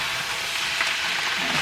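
Cooked noodles and chicken fry in a wok, giving a steady, close, loud sizzling hiss that runs evenly throughout with no talking.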